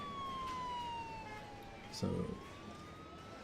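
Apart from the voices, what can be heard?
ambulance siren in Emergency 4 video game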